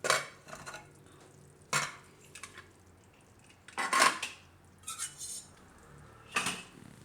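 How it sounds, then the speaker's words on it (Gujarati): Metal clanks and clatters of a pressure cooker lid being opened, a few sharp knocks spaced apart in a quiet kitchen. "તો આપણે કુકરને હવે જોઈ લઈ ખોલીને."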